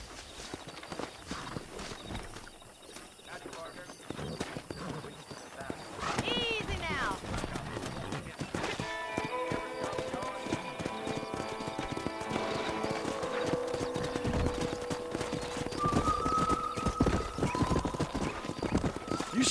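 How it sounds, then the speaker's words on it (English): Horses in a Wild West video game clip-clop at a steady walking pace with occasional whinnies, layered under game music and voiced dialogue, the hoofbeats close and continuous. "there's a pack of wild horses nearby."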